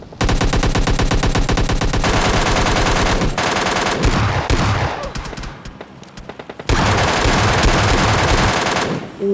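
Dense, rapid automatic gunfire from PUBG Mobile Lite, loud and nearly continuous, briefly thinning out midway before resuming at full intensity.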